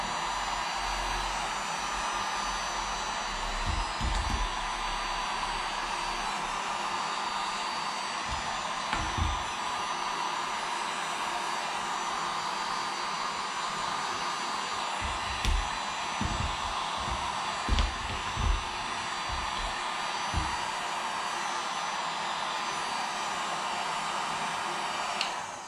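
A heat gun on its low setting blows steadily as it shrinks plastic wrap onto an RC helicopter battery pack, a continuous close airy rush with a few soft handling knocks and no talk.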